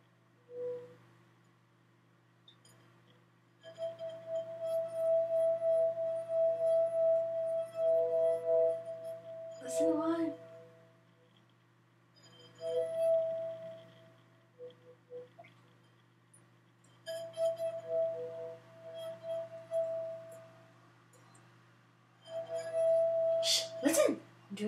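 Wine glasses rubbed around the rim with a wet finger sing in sustained, wavering tones that swell and fade in several separate passes, with occasional clinks and small noises between them and no talking.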